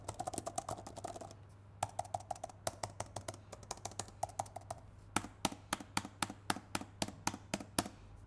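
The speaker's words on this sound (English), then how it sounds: "Here's a simple keyboard sound test for your reference." Keys clatter on an iPad Pro Magic Keyboard case in quick close bursts of crisp taps, with brief pauses between runs and a faint steady hum underneath.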